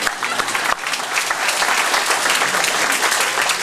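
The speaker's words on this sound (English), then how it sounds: "So I think a big round of applause for my wife." An audience at a hip and knee joint replacement presentation breaks into continuous applause, a full crackling wash of many hands clapping that sustains throughout at steady loudness.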